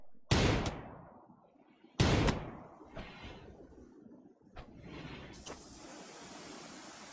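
Rimworld gunshots ring out as sharp, loud cracks with decaying tails, two heavy shots followed by several fainter pops and clicks amid quiet game ambience.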